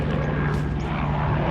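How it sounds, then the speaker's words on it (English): Helicopter flying overhead above a southwest homestead, a steady propeller-like drone heard outdoors, fairly near and constant throughout the short stretch, with no talking. "There's a helicopter, sorry."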